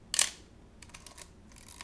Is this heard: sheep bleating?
no